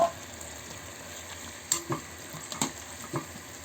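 Squid and mushrooms fry quietly in a pan under a soft, steady sizzle, broken by a few light clicks and scrapes of stirring, with no talking.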